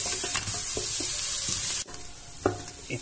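Onion sautés in a pan for rice with beef ribs, giving a close, steady sizzle and hiss while a spoon stirs and scrapes in repeated strokes. The sound dips abruptly partway through and then resumes with more scraping.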